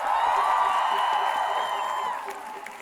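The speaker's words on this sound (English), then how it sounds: "Give them a round of applause." Crowd at a school climate strike rally in Sydney cheering, whooping and applauding, a sustained roar of many voices that fades slightly toward the end.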